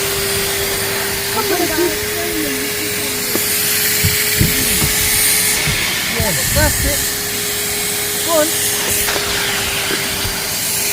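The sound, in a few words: Henry vacuum cleaner cleaning a car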